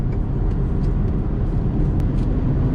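A tuned 2014 BMW 335i xDrive M-Sport accelerating in fourth gear, heard from inside as a steady, loud low engine drone with road rumble and no talk.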